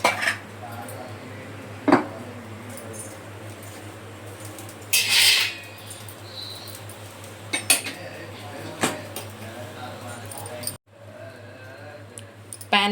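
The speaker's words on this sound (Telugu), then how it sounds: "ప్యాన్ పెట్టుకుందాం." A pan set down on a home kitchen stove, making a sharp metallic clink, followed by a few lighter cutlery and utensil clatters and a brief scrape over steady low hum.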